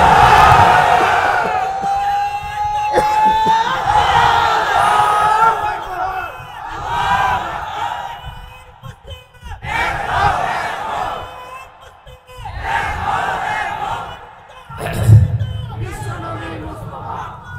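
A large outdoor religious gathering at a market in Dhaka roars a takbir chant in response, loud massed voices rising and falling in repeated waves across the whole stretch, with a speaker's amplified voice mixed in.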